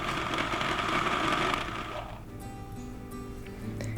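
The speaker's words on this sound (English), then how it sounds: "I started by milling some soft white wheat" A grain mill grinding soft white wheat gives a steady, close mechanical whir for about two seconds, then stops, leaving a quieter residual hum and faint clicks.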